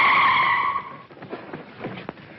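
Tires screech sharply as a car brakes hard to a stop, a loud squeal fading after about a second, followed by softer thumps and rumble.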